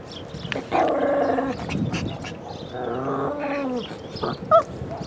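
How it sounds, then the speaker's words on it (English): A dog barks and growls nearby in a neighborhood, a few harsh vocal bursts with snarling in between, loud and close with no talk over it. "the vicious killer dogs that roam around neighborhoods"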